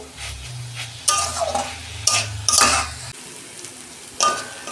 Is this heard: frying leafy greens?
yes